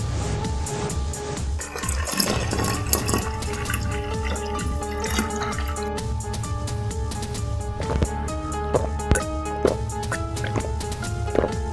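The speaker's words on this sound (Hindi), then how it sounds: "झुमरू बाल्टी से कुएं का पानी खींचता है।" A bucket hauled up from a village well, with water splashing, dripping and pouring in irregular bursts under a steady background, fairly close, with occasional knocks.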